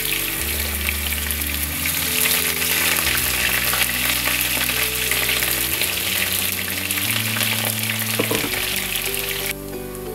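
Potatoes fry in hot oil for a biryani with a loud, continuous sizzle that holds steady from start to finish, along with a low background hum and no talking.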